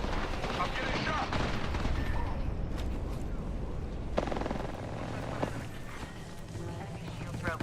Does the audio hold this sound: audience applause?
no